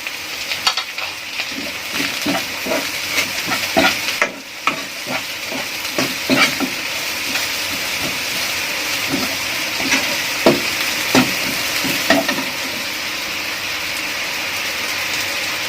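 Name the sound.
stir-frying pak choy with garlic in a pan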